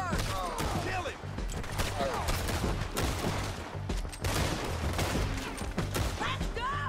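Heavy, continuous battlefield gunfire in a video game, dense overlapping shots and bursts from several weapons, loud throughout, with shouting voices mixed in.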